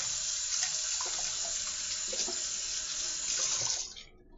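A kitchen tap runs steadily while drawing water for cooking a sausage and paprika dish, a loud, close, continuous hiss of flowing water that cuts off near the end.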